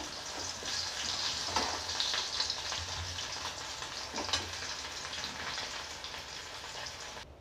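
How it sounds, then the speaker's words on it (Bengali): Fish pieces fry in oil with a soft, even crackle and hiss at moderate distance, broken by a couple of light knocks; quiet overall with no talk. "মাছগুলো বের করে দেব, ভাজা হয়ে গেছে পুরো।"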